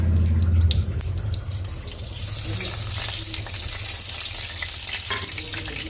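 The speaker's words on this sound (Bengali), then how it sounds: "এবার গোটা গরম মশলা, একটা তেজপাতা, একটা শুকনো লঙ্কা আর একটু চিনি ফোড়ন দেব।" Whole garam masala, a bay leaf, a dried red chili and a little sugar tempering in hot oil, a crackling sizzle under faint background noise, with a louder start and then a steady hiss.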